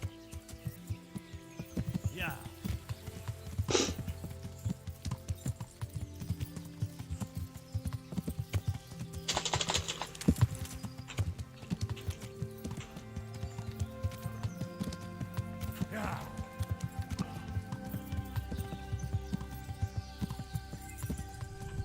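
A horse in the video game Kingdom Come: Deliverance trots with a steady, rhythmic clip-clop of hooves that continues throughout, with an occasional whinny and faint voices in the background.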